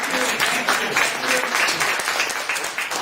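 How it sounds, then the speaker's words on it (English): Applause from an evening meeting audience, a steady dense wash of many hands clapping at close range with a faint voice or two underneath. "I think we all ought to applaud each other for being here tonight"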